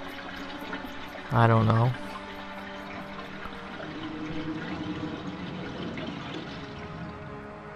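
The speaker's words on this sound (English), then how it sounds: "Well, that water took forever." Water drains and trickles in Resident Evil Director's Cut, a soft steady liquid wash running under a player's talk, broken by a short voiced outburst.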